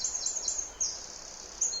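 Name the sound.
birds singing outdoors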